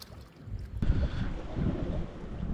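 Strong wind buffets the microphone at the seaside during solo fishing, a steady rough rumble that swells after a brief quieter start and stays loud throughout.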